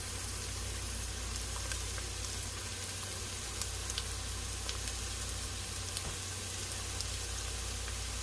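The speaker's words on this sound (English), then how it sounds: "I'm just going to put my onions and get them started so they're turned to crisp" Onions sizzle and crackle steadily in a hot frying pan, a continuous close hiss with small scattered pops and no talking.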